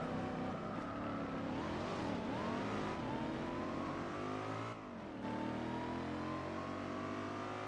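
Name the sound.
racing car engines in Gran Turismo 4 video game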